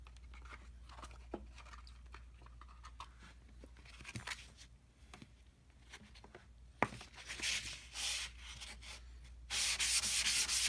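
A sharpening stone being flattened on sandpaper, close gritty rubbing and scraping strokes that start soft and grow louder into steady heavy sanding, with no talking.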